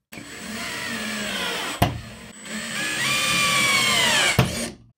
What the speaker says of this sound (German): jetzt geht es einfach darum, dass ich auch nochmal diese Platte mit zum Beispiel zwei Schrauben befestige